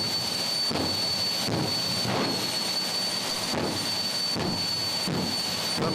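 Steady loud roar of a jet-powered drag car engine, a continuous whine and rumble broken by several rhythmic afterburner pops spaced about every second, with no voices over it.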